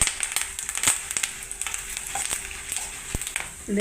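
Chana dal roasting in a pan for raw banana curry, crackling and sizzling up close with sharp pops and stirring scrapes throughout, fairly quiet and without talking.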